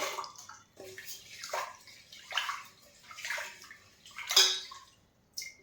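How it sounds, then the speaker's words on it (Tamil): Rice being washed by hand in water for instant venpongal premix, with repeated close sloshing and swishing splashes in bursts, a sharper splash near the end, and no talking. "இப்போ நம்ம எடுத்துருக்க அரிசியை வந்து முதல் நல்லா கழுவிக்கிடுவோம்"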